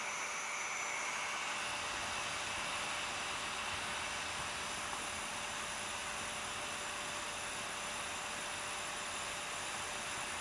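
A 5.25 inch hard drive motor spins at about 6000 RPM, driven by a brushless DC controller circuit, giving a steady high whine and hiss that stays constant and close throughout.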